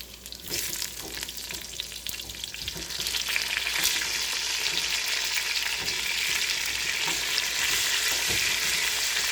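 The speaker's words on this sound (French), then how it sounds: "So now we're gonna add the onion with the shell." Onion halves with their skins on fry in a pan for a brown stock base, a loud, dense, continuous sizzle that builds after the first few seconds and then holds steady and close throughout.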